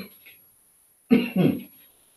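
Two quick, harsh coughs close by, back to back, after a brief faint rustle and a moment of quiet.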